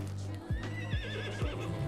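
A horse in a video game whinnies in repeated bursts, with low snorting pulses and a wavering high neigh, fairly close and clear over a faint background.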